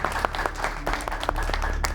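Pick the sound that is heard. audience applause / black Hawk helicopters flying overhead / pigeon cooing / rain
audience applause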